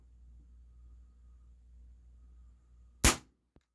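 A single sharp crack from a Daisy Powerline 822 .22 caliber air rifle firing a pellet, loud and abrupt after a quiet stretch, with a faint tick shortly after.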